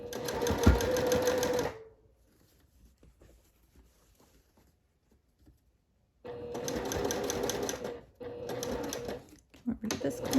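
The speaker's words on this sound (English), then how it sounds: "I'm going to backstitch that corner in." A sewing machine backstitches the corner of a seersucker dress in loud rapid bursts, stopping for a few quiet seconds before resuming in short stitching runs.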